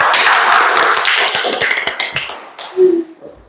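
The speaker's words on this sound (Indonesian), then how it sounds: "tepuk tangan untuk kita semua" Primary school class clapping hands together in a classroom, a loud flurry of sharp claps that thins out and fades, with a brief voice near the end.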